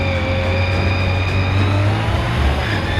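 LMP race car engine on a lap during a track-day battle, a loud sustained high-pitched whine heard from onboard, holding steady with slight pitch shifts through the lap.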